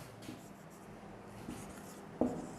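Marker or chalk writing on a board during a grammar lecture, soft close scratching strokes with a few brief louder taps, quiet and without talk.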